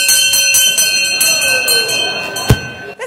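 A bell rung to signal that a speaker's three minutes are up at a candidates forum, a single sharp strike standing out over room noise and a faint, sustained background tone.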